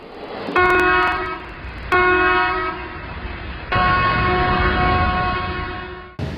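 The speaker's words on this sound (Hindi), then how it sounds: "दो छोटा एक लंबा, ये 2 छोटा 1 लंबा का मतलब होता है चेन पुलिंग।" Indian Railways train horn sounding the chain-pulling signal, two short blasts then one long sustained blast, loud and close with a steady rumble underneath and nobody speaking.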